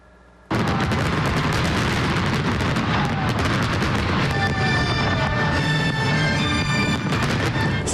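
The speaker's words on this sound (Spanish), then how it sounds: "Cientos de fuegos artificiales iluminaron el cielo en varias regiones en China anoche" Fireworks bursting over China during National Day celebrations, a dense, continuous barrage of loud booms, crackles and pops starting abruptly and rolling on without pause.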